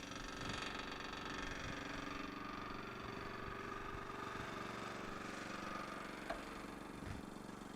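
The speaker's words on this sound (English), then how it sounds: "we're pumping everything that's in the lines forward back into the tank" A 2002 Leeboy L150 tack distributor runs steadily while pumping asphalt tack back from the lines into its tank, a constant mid-pitched engine and pump drone with a faint brief clack near the end.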